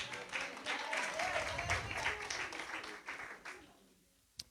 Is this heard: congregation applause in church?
yes